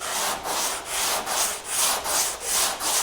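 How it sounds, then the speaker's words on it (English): Hand sanding of car hardtop bodywork with 120 grit paper on a Dura block, a steady rasping scrape in regular back-and-forth strokes, about eight passes, loud and close with no talking. "now I've got 120 grit on this Dura block"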